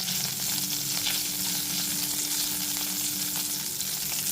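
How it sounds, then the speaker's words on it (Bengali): Nigella seeds and slit green chillies sizzle steadily in hot oil over a low gas flame, a constant close frying hiss with faint stirring and no talking. "আর গ্যাসের ফ্লেমটা লোতে রেখে ফোড়নটা হালকা করে ভেজে নেব"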